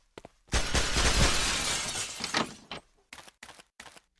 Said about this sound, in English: Shoot the glass out